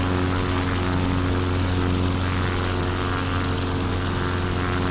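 A propeller aircraft engine runs at maximum power in Microsoft Flight Simulator, a steady loud droning roar with a constant pitch that fills the whole stretch with no break.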